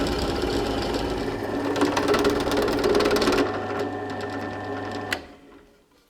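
A Forstner bit in a drill bores a mortise hole in wood, a steady close whirring drone of motor and cutting for about five seconds, then spinning down to quiet.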